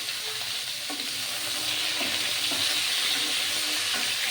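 Potatoes and pointed gourd fry together in a large wok, making a steady, close sizzle with a few periodic stirring scrapes, and no voices.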